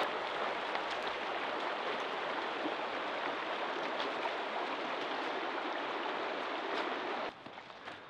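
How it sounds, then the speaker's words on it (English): Mountain creek where two streams join at a free campsite, rushing steadily and loudly close by as a continuous broadband wash that drops off abruptly near the end. "this campsite has one creek and another creek joining up to that creek."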